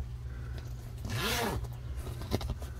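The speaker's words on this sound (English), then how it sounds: "Oh, and these zip down too." A zipper on the canvas of a 1997 Subaru Sambar camper van is pulled open in one smooth, close rasping run, followed by a small click and quiet handling.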